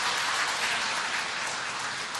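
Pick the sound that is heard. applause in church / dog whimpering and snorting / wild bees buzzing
applause in church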